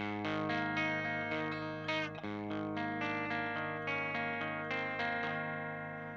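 An electric guitar plays clean arpeggios through a fuzz pedal set to minimal fuzz, with ringing, slightly gritty picked notes layered into sustained chords and a shimmering, echoey tail.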